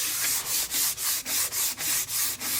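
A microfiber towel wiped by hand across a wet luxury vinyl plank floor, picking up excess dirty water: steady, close swishing strokes repeating about every quarter second, with no talking.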